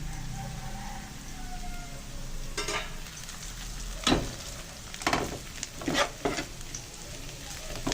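Vegetables with carrots sautéing in oil in a pan, giving a steady close sizzle broken by several louder scraping stirs of a utensil.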